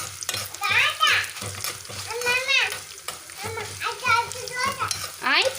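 Food sizzles and is stirred in a pan in a home kitchen, a soft frying hiss running beneath frequent, lively children's chatter that dominates the clip.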